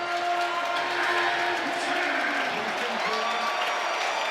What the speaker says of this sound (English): Crowd on their feet here at Scott